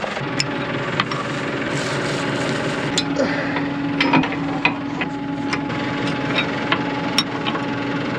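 A steady tractor engine drone runs throughout with rattling and scattered clicks and knocks as it mows corn stalks in a harvested field, with no voices.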